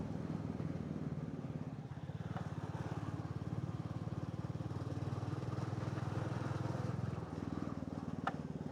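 A Royal Enfield Meteor 350 motorcycle rides along a well-kept road outside Bangalore, its engine a steady low rumble with constant wind noise throughout and no clear change in pace.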